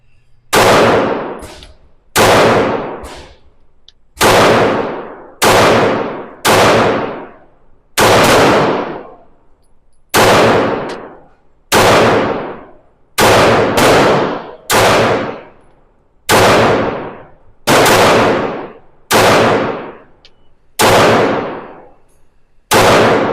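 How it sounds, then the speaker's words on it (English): A Glock G45 pistol fired one-handed at a practice range: about fifteen loud, sharp gunshots, each with a ringing decay, spaced roughly one to two seconds apart, with no other sound between them. "So I'm going to shoot the Glock"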